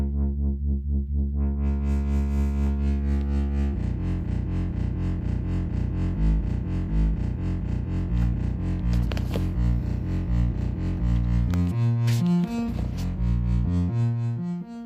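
A sustained, buzzy synthesizer tone muffled by a G-Storm XAVCF Eurorack low-pass filter module, holding low notes that shift pitch, warm, thick and creamy like a Moog, with brief brighter sweeps later.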